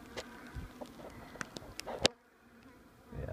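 Honeybees buzz faintly around a chimney flue during a bee removal in Swansea, SC, with short scattered buzzing passes and a few sharp clicks before a brief quiet stretch.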